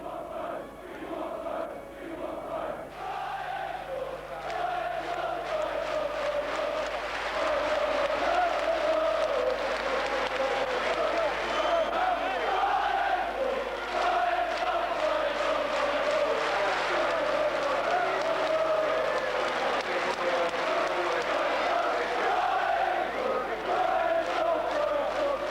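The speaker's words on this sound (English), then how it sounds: "the crowd won't leave. They stay on the terraces and demand another chance to say goodbye" A football crowd on the terraces at Brian Clough's last home game in 1993 roars and chants continuously, a dense, loud wall of voices that swells and holds for the whole stretch.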